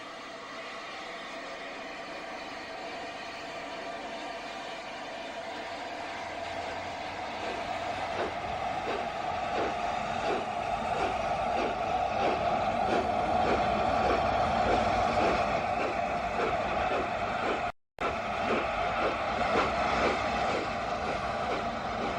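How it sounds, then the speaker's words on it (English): Steam locomotive 6009 Union of South Africa passes hauling the last train, its rumble building into a loud rhythmic clatter of carriage wheels over rail joints, steady and close, with a brief dropout late on. "This is 6009 Union of South Africa with the last train."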